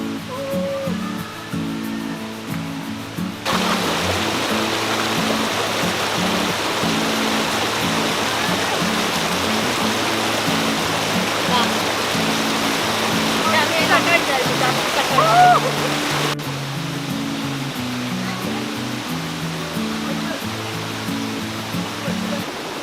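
Urulikkund waterfall flowing, a steady rushing wash of water heard under music, swelling louder in the middle section before easing back.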